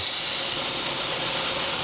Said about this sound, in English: the rice is finally boiling